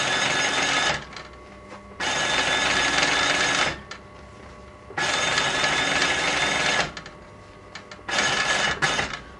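A sewing machine hemming curtains runs in four steady bursts of fast stitching, separated by short quiet pauses, close and alone.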